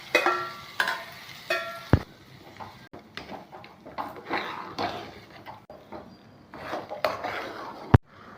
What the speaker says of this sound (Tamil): தாளிச்சதை ரவையில் போட்டு கிளறி விட்டுக்கலாங்க